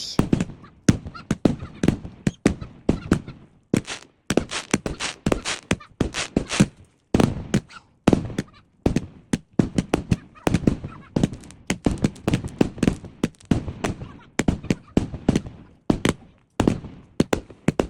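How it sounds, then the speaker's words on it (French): A fireworks display at night, with bazooka-style launches building to a big finale: a dense, rapid run of sharp bangs and crackling bursts, many near and loud, continuing with little pause and no talking. "Et clou du spectacle, un espèce de gros feu d'artifice magnifique"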